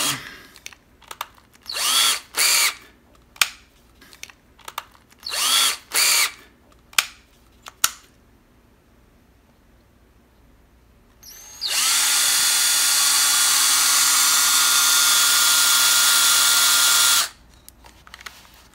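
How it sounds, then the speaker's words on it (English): A power drill using a nail as its bit whirs in short bursts, several quick pulses, then one long steady run of about six seconds, close and loud. "actually use the nail like a drill bit"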